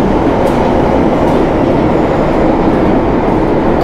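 A London Underground train arriving at a busy platform, a loud steady rumble of wheels and carriages rolling in throughout, with no talk over it.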